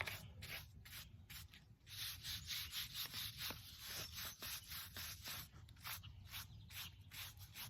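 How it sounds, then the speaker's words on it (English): Rhythmic scrubbing strokes on an old carved headstone during a restoration, a quick back-and-forth rasp that is fairly faint and continuous, with no voices. "Got some more scrubbing to do"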